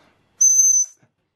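A tiny self-designed whistle blown once, giving a short, loud, piercingly high steady tone of about half a second against near silence.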